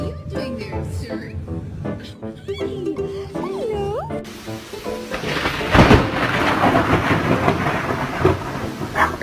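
Heavy rain pours down in a steady broadband wash with a low rumble, after a few seconds of whining, rising and falling vocal sounds. The downpour grows louder and stays constant to the end.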